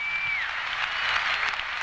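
Applause for rider Anke van Gruven of the Netherlands on Bonfire at the Sydney Olympic equestrian event, a dense crowd clapping that holds steady throughout, with a brief whistle near the start.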